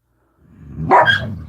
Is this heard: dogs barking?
yes